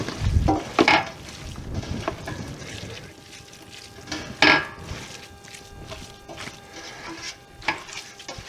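Cheese curds for homemade Cotswold cheese are broken up and stirred in a pot, giving soft wet squelches, sloshes and occasional knocks of the utensil, moderately close and irregular.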